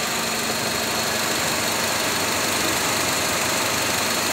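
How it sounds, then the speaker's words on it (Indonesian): A Nissan X-Trail engine idles steadily with its extra radiator fan spinning, giving a continuous broadband whir and hum throughout at close range. "Extra fan-nya muter."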